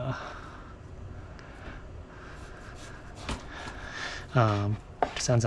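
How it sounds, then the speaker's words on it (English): A knife cutting pork into rough chunks on a board: scattered thuds and scraping cuts, close by, with a voice speaking briefly between the strokes. "I'm just cutting this up into rough chunks"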